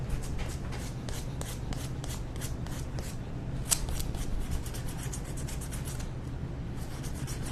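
A sander working over a wooden egg with a steady, close, dry rasping and rubbing, fairly even throughout with brief scratchy accents, no talking.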